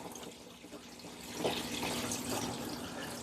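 RV antifreeze is poured down a drain while winterizing a 2021 Keystone Hideout 175BH travel trailer, a steady trickling, gurgling liquid flow that swells slightly partway through and continues without talk.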